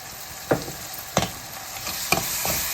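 Ginger garlic paste frying in a pan for a mutton and chana dal curry, a soft steady sizzle broken by several sharp scrapes from a stirring spoon, with no voices.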